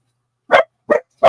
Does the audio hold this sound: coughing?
no